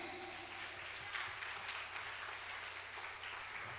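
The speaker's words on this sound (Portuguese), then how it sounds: "Você pode dar um aplauso a Ele aí forte." Congregation at a church service applauding loudly on request, a steady broadband patter of many hands sustained evenly throughout with no talk over it.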